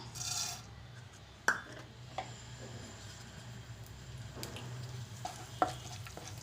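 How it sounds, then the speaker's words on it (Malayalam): A teaspoon of urad dal fries in two teaspoons of hot oil for tomato chutney, making a faint, quiet sizzle broken by a few sharp spoon clicks against the pan. "ഇനി നമുക്കതിലേക്ക് നമ്മൾ എടുത്തത് 1 ടീസ്പൂൺ ഉഴുന്നിട്ട് കൊടുക്കാം."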